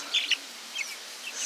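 Chickens at a drinking pail on a backyard farm, soft scattered clucks and chirps heard close but quiet over a steady outdoor hiss.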